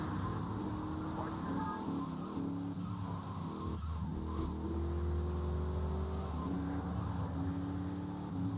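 A car driving in the video game GTA 3, its engine droning steadily with shifting pitch and a brief squeal of tires, moderately quiet and without talk.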